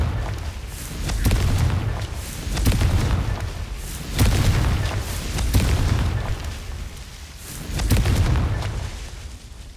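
Confringo fire-blast spells in Hogwarts Legacy go off as a series of deep, rumbling booms roughly every second and a half, each swelling and fading into the next over continuous game noise.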